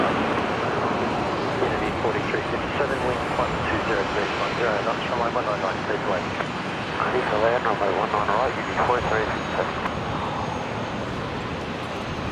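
An airliner lands at Brisbane Airport in a gusty direct crosswind, its engines rumbling and roaring at a fairly loud, fluctuating level while indistinct voices sound over the noise.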